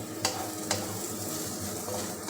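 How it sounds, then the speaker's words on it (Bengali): Carrots with sugar frying in a pan for Afghani pulao, giving a steady close sizzle with two brief sharp stirring scrapes early on. "এরপর হালকা ভেজে নেবো আমি গাজরটা আমি দু মিনিট ফ্রাই করে নিলাম"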